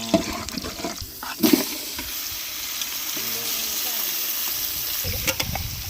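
Onions and cumin seeds are tipped into hot oil in a pan for mutton curry. A burst of sizzling rises with clattering as they land, then settles into a steady frying hiss with occasional utensil knocks.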